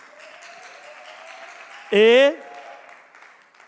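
An audience at a televised singing competition claps in a steady, sustained wash of applause, with a brief spoken word from a presenter cutting through midway.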